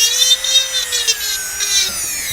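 A dull dental bur grinds into the acrylic of a Hawley retainer, giving a loud, high-pitched whine whose pitch sags and wavers as the cutting load changes, close by with no talk.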